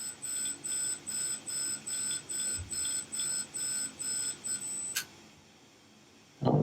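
A hard drive installed in a 2010 MacBook makes a scary noise: a regular series of high, electronic-sounding pulses repeating about twice a second, then a sharp click, a quiet stretch, and a louder burst at the end.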